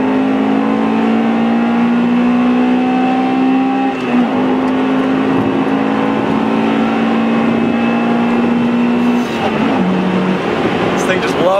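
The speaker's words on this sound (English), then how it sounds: "you can hear this race car motor sitting right in front of me" An Acura Integra Type R race car engine hums close by at a steady drone, with small rev changes and shifts in pitch around the middle and near the end while a voice talks over it.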